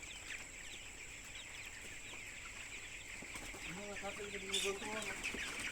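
Twenty-day-old broiler chickens give a short run of faint, soft clucks late in the clip, heard over a steady high hiss and low background murmur.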